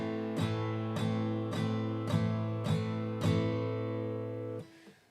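Guitar strummed on a single chord in six evenly spaced, crisp strokes that ring loud and close, then cut off sharply at the end, with no voices.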